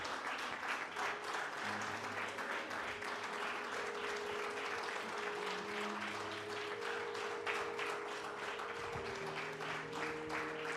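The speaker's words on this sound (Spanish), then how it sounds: "Aplauso al Rey de Reyes" A church congregation claps together in sustained, dense applause that stays even and fairly distant for the whole stretch. Faint voices or music tones hum underneath.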